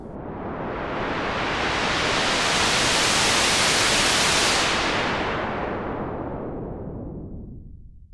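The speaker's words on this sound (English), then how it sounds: "let's hear that white noise filtered with no resonance first" White noise run through an Electro-Smith 2144 four-pole low-pass filter with no resonance, a loud steady hiss whose top end closes down partway through and darkens to a muffled rush before stopping.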